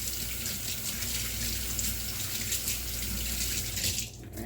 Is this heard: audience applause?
no